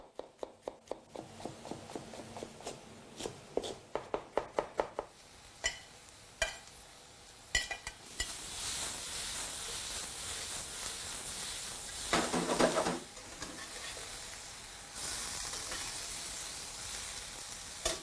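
Fresh seasonal regional vegetables with potatoes and onions sizzle steadily in a frying pan, with a run of sharp clicks and taps early on before the hiss swells louder and continues alone.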